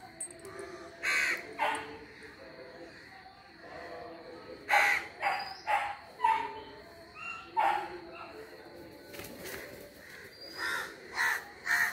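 Crows caw repeatedly in a loose, uneven rhythm, gathering near a house where food is expected, some calls close and loud, with a dog barking and sniffing nearby.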